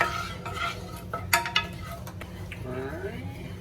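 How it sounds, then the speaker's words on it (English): A wooden spoon stirs a sugar-free chocolate ice cream mixture in a pot on the stove, with soft scraping and occasional knocks against the pan over a low hum, and a voice speaks briefly near the end. "you want to take your wooden spoon and you want to make sure that you stir it constantly"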